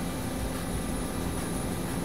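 A helicopter in the military video game ARMA 2 drones steadily with a continuous, even engine and rotor roar and no talk over it.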